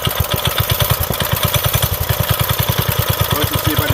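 Turbocharged Honda CB750 pro-mod motorcycle engine running cold with the throttle held open, a loud, steady, rapid low thumping pulse that goes on without a break, close to the microphone.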